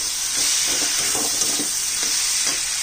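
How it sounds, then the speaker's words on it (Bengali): Chopped green chillies going into a hot pan: a loud, steady sizzle and hiss, with soft stirring scrapes pulsing through it and no talk. "এবার দিয়ে দিচ্ছি কাঁচা লঙ্কা কাটা, 4-5টা কাঁচা লঙ্কা দিলাম"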